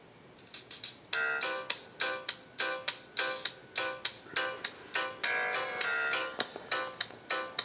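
Music with a bright, plucked melody plays through a smartphone's small built-in speaker near maximum volume, clear and fairly loud, with no talking over it.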